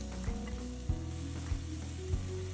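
Onion, green onion, chili powder, soy sauce and garlic sauté in perilla oil for a radish and potato braise: a continuous soft sizzle, with a scrape of stirring about every half second.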